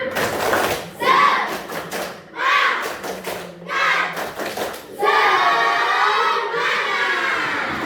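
Primary school class doing a rhythmic clapping cheer, bursts of children's chanting voices with claps and thumps in sections, then a sustained loud group shout near the end.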